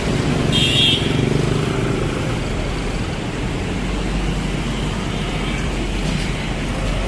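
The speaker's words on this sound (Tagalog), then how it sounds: "Yung motor na yan." A motorcycle passes through street traffic outside a driving school in the Philippines. Its engine rumbles steadily against dense road noise, loudest at the start and then blending into the continuous traffic drone.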